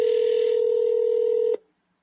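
A single steady touch-tone beep from a phone keypad, loud and sustained for about a second and a half before cutting off abruptly, as a number is entered on an automated spam-filter call prompt.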